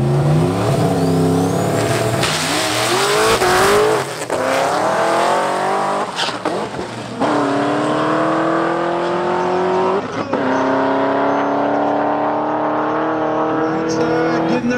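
Drag race cars with nitrous launching down the strip at a summer fest, engines roaring and revving loudly with sweeping pitch rises and brief tire squeal, repeated bursts across the run, crowd and announcer voices faint underneath.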